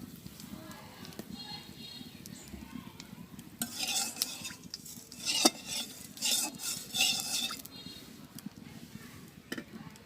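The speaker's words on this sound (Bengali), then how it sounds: "আর একটু তেল দিয়ে দিই বাকি মাছগুলো ভাজার জন্য।" Small local fish fry in oil in a village kitchen, a steady low sizzle running throughout with louder bursts of crackle and utensil scrapes midway, close and moderately loud, with faint voices in the background.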